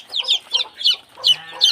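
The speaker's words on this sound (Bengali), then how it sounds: "আমাদের মুরগির বাচ্চাগুলো" Newly hatched native chicks in a brooder on a poultry farm peep rapidly and shrilly, several quick chirps in a row, close and clear with no talking.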